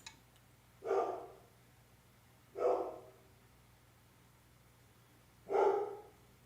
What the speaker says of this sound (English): Dogs barking outside.